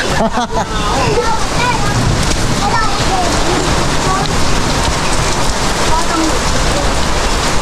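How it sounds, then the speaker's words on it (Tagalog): Steady, loud rain pours down for the whole stretch, a dense hiss of drops hitting surfaces, with faint voices briefly audible near the start. "Pahina na po ang ulan."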